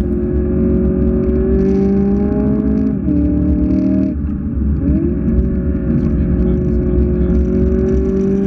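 A race car drives fast around the Gimli Raceway track, its engine a loud, steady drone heard from close by, dipping briefly in pitch as the car lifts off and then climbs back up. No one speaks.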